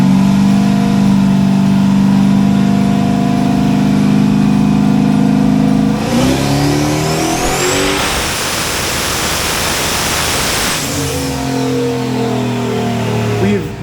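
The Red Dragon project car's engine runs hard on a dyno, a loud sustained drone that swells into a high-revving roar for several seconds and then drops back to a lower steady tone, with talk mixed in.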